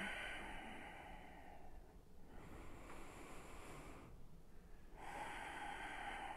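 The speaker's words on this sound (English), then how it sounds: "let's just take a few deep breaths together" Slow, deep belly breaths in and out, each long airy inhale and exhale filling the quiet at close range, with a short pause between breaths and no talking.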